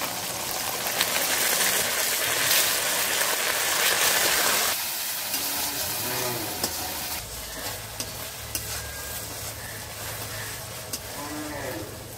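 Onion, ginger and garlic paste frying in oil for a sorputi fish curry with potato and pointed gourd, a dense close sizzle that settles after a few seconds, with stirring scrapes and light clinks.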